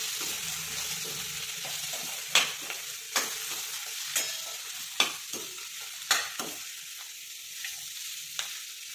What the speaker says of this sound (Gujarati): હવે આને આપણે મિક્સ કરી લઈશું